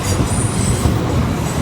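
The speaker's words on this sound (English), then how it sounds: "There's the train now" A train crosses a railway bridge close by, a loud continuous rumble of wheels and wagons with a high metallic squeal running along the rails.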